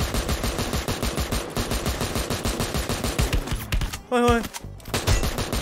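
AN94 assault rifle gunfire in the Free Fire battle royale game, rapid continuous bursts of automatic shots, loud and close, briefly broken by other game effects before the firing resumes, with a voice shouting once.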